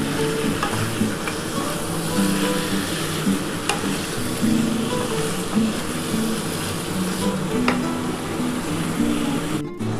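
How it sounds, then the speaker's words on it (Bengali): Mutton curry with potatoes sizzles and fries steadily in a pan while being stirred, with a constant close hiss and occasional scraping clinks throughout, and no voices. "তখন আগে প্রথমে একটু ভালো করে কষিয়ে নিই"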